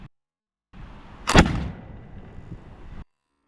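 A Brown Bess flintlock musket fires a single sharp blast outdoors. The report is followed by a short rumbling tail, with no talking over it.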